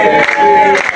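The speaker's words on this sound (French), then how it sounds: "Merci, nous applaudissons très fort." Loud crowd applause and cheering at a reception where artists and comedians welcome a government minister at a museum, a dense continuous wash of clapping filling the whole moment.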